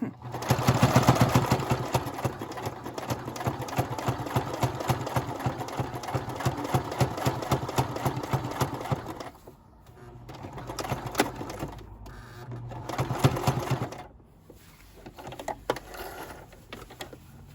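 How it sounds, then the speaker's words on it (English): A domestic sewing machine labours through thick layers of men's button-down shirt fabric, its motor whirring steadily in a long run, then pausing and restarting in shorter strained bursts, close up. "My machine is struggling."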